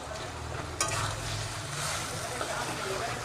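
Amudi fish fry together with amchur in a pan, giving a steady close sizzle with stirring scrapes and a sharp clatter near the start.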